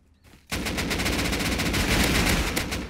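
Sustained rapid automatic gunfire in the video game Rust starts abruptly after a brief quiet moment and continues as a loud, steady burst to the end.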